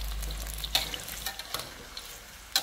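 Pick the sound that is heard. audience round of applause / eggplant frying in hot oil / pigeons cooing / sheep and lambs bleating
eggplant frying in hot oil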